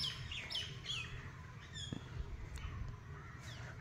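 Budgerigars in a colony cage let out a scatter of quick, high chirps and tweets, faint and intermittent, over a low background hum.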